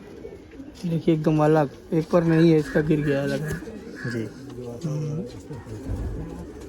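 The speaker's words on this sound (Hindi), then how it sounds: "देखिए कबूतर के पर" Pigeons coo repeatedly near a man handling and showing them, the birds' calls mixed with and partly under his ongoing talk.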